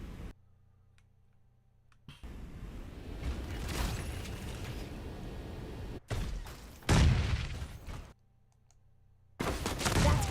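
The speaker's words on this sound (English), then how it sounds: "That's gunfire." Gunfire in the mecha shooter Super Mecha Champion: dense bursts of rapid shots and impacts come in several loud stretches, broken by short quiet gaps.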